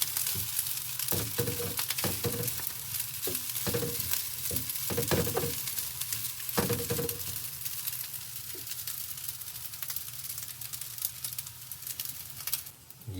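Fried rice sizzles steadily in a pan, broken by repeated knocking and scraping bursts of a spatula tossing it in the first half, then settling into an even, close hiss.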